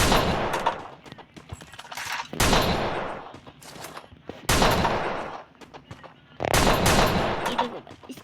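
M1873 gunshots in a mobile shooting game, four loud separate bursts of gunfire with sharp onsets, each dying away over roughly a second before the next shot.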